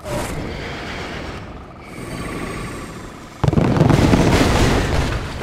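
Missile strikes in Red Alert 2: Yuri's Revenge land as a rumbling blast, a quieter lull, then a sudden loud explosion that booms and crackles to the end.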